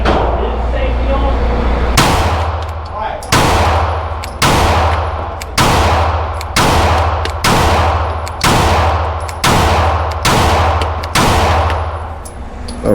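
Nine sharp, loud reports from a ported CZ P10C pistol, spaced about a second apart and each ringing out briefly after a steady background hum.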